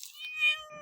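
A cat gives a single short, clear meow, close by and fairly loud, with a brief rising and falling tone and no voices around it.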